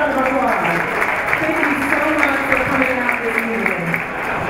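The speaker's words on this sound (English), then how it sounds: "Give yourself a round of applause." Audience applause fills a gala banquet hall, a dense, steady wash of clapping that holds at an even level throughout, with voices talking over it.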